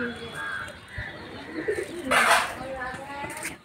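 Pigeons cooing softly near a home where washed clothes hang drying in the morning sun, low murmuring coos under steady ambient noise with a brief louder rustle midway.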